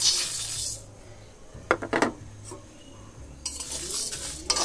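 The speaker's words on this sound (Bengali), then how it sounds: "প্রথমে আমি কড়াই বসিয়ে দিয়েছি, এবার এই মশলাটা আমি ভেজে নেব ভালো করে" Whole spices fry in a hot kadai for riyaji mutton, opening and closing with a loud, bright sizzle. In between come a few sharp metallic clinks and scrapes of stirring.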